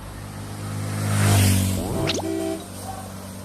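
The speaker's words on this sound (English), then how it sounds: "Did you hear the sound of my car?" A car passes close by on a street, its broad road roar rising and falling along with a steady engine hum and a sweeping tonal whine as it goes.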